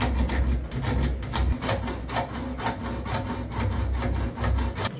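A junior hacksaw cutting slots into a metal bolt, rasping in quick, regular back-and-forth strokes, close and moderately loud with no talk.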